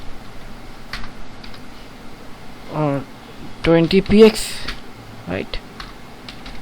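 Keys tapped on a computer keyboard while writing CSS code, sparse light clicks spread through the clip, close, with someone talking over parts of it.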